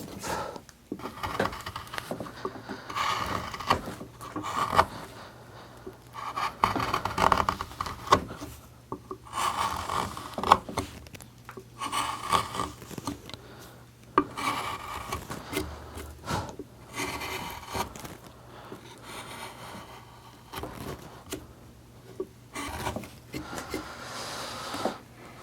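Hand wood carving with chisel cuts, heard as soft scraping and rasping strokes in irregular bursts, close and quiet, with no voices.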